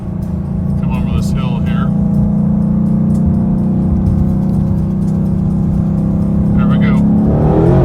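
A 2020 Shelby GT500 engine runs at full throttle with a loud, steady, low droning roar throughout, while someone talks over it from inside the car.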